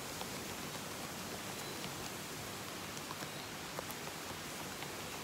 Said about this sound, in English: it started to really rain, like pouring rain right now